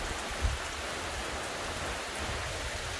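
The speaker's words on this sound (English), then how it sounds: "It's about to pour down rain." Rain pours down steadily outdoors on a road near waterfalls, as a dense, even hiss with one soft thump near the start.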